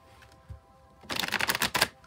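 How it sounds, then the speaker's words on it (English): A tarot card deck being shuffled: a short soft riffle of cards, then a louder, busy burst of rapid flicking and shuffling for about a second, close and alone with no talk. "I'm going to shuffle till the deck feels ready"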